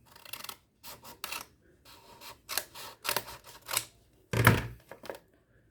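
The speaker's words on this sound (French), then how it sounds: "Allez, je vais couper l'excédent." Scissors snipping off excess hot glue on a Christmas Santa craft, a series of short, close, separate crisp cuts and rubbing scrapes with quiet gaps between them.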